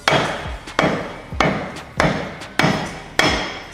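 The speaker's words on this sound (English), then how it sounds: "Lead hammer to take off your knockoffs." A lead hammer strikes the knockoff spinners on a Ferrari 512bb's wheels six times at a steady pace, each blow a loud, close, dull thwack that trails off briefly.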